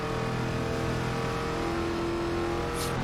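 A NASCAR race car engine in the iRacing simulator drones steadily at high revs, a loud, sustained buzzing tone held close without a break.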